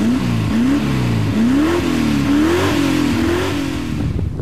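AMG-tuned Mercedes 450SLC with a 5-litre V8, reworked heads and a sport exhaust, revving hard up close in several short rising bursts, the exhaust note climbing and dropping repeatedly.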